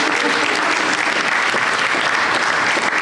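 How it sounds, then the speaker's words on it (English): Audience applause at a music industry panel event fills the room, a steady dense clapping from many hands that holds evenly at a moderately loud level. "I feel like we didn't applaud you."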